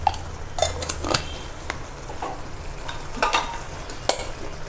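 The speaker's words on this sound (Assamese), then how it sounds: "ভালদৰে মই লৰাই দিম" Spices such as coriander and chili powder are stirred into a chicken and egg pakora mixture in a bowl, with soft scraping, clinks of a spoon and a light wet swish, close and fairly quiet with no speech.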